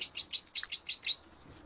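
A Fischer's lovebird (Agapornis fischeri) gives a rapid run of about seven shrill, close chirps in quick rhythm, then falls quiet.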